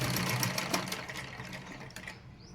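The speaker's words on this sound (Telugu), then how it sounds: "ఇప్పుడు దీన్ని ఇలా మిషన్ పైన పెట్టుకొని మనకి ఎంత సైజు కావాలంటే అంత సైజు కుట్టేసుకోవాలి" A sewing machine runs steadily while stitching cloth, a rapid close mechanical whirr that carries on for the whole stretch and eases off slightly near the end, with no speech over it.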